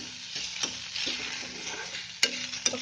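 Ginger garlic paste frying in a small amount of oil, a steady close sizzle with scattered sharp clicks and scrapes of a spoon stirring the pan, no voices.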